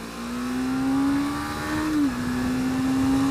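A 2017 Suzuki GSX250R motorcycle engine revs up under acceleration while overtaking, a close, loud, rising whine that holds steady, dips briefly, then climbs again.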